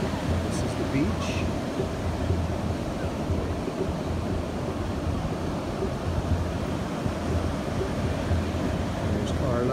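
Pacific Ocean waves break on a beach with gusting wind, a steady close roar of surf and buffeting wind noise with no clear pauses.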